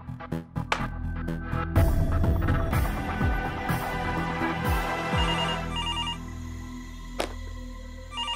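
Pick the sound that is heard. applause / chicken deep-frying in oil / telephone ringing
telephone ringing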